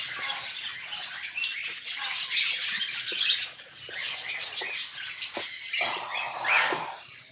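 Many birds squawking and chirping together at a gathering spot outdoors, a dense continuous chorus of overlapping calls at moderate distance, with no talking.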